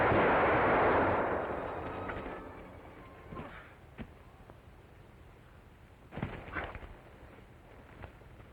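Gunfire in a 1945 western film soundtrack: a loud opening blast that booms and fades over a couple of seconds, followed by a few sharper, quieter reports and thuds, with no speech.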